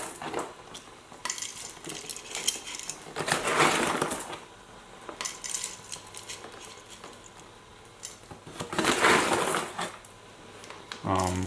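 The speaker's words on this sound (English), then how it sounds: "What you'll do is just pour the coffee directly into your grinder." Coffee beans poured into a Zassenhaus hand grinder for French press, two bursts of rattling, clattering pours a few seconds apart, with a voice talking faintly in the background.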